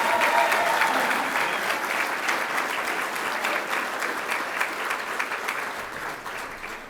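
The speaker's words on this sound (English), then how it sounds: "A huge round of applause." Sustained audience applause at a Virginia service excellence awards ceremony, a dense, steady wash of clapping from a large crowd that holds strong throughout, slightly fuller at the start.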